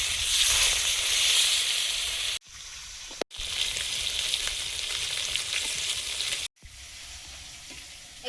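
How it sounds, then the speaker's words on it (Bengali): Pieces of katla fish fry in hot oil in a wok, giving a loud, steady, close sizzle with two brief breaks as the pan is stirred or moved. No voices. "মাছগুলো ভেজে নিচ্ছি"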